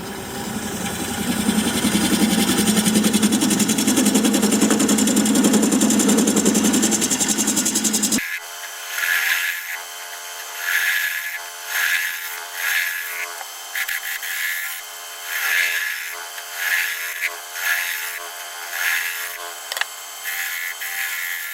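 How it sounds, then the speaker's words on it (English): Wood lathe spinning a holly blank while a 1/2 inch bowl gouge cuts a recess sized for 50mm chuck jaws: a dense, loud broadband rush for the first eight seconds, then the motor's steady hum with repeated scraping bursts at a regular rhythm. "And I'll use a 1/2" bowl gouge to create that."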